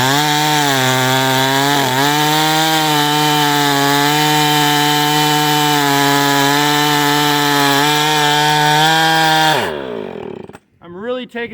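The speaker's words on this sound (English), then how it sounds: "letting the saw do what it wants to do" A chainsaw runs loud and steady at high revs while cutting an oak log, then drops off abruptly near the end, leaving a few brief, quieter bursts.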